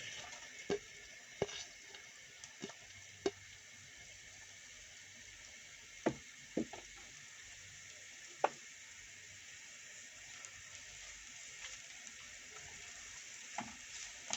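Onions fry in oil in a pan beside tilapia fish, giving a soft continuous sizzle close by, with occasional sharp clicks of a spatula stirring.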